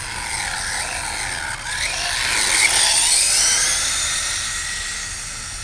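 An Arrma Typhon 6S RC car running on a 3S battery at full throttle gives a shrill electric motor whine that rises and swells, then eases slightly, loud and continuous.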